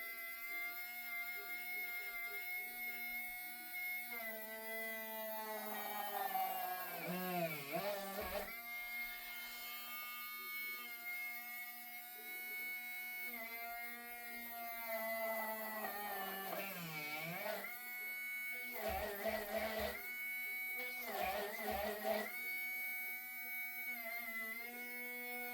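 A small electric drill bores a hole, its motor whining in a high buzz that sags and recovers in pitch several times under load. The sound is close and fairly quiet, with no speech.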